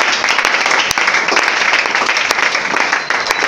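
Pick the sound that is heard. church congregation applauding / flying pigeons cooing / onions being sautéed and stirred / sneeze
church congregation applauding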